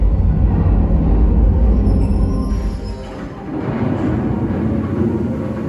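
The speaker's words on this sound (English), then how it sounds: "And here comes the ore train." An ore train rolling into a mine, a loud, steady low rumble with rattling and metallic rolling noise that dips briefly and then continues, heard alone without talk.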